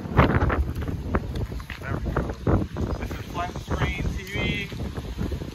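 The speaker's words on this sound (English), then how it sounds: "The wind is blowing crazy right now." Strong gusty wind blowing outdoors and buffeting the microphone loudly, a steady roar with surges throughout, while people talk over it.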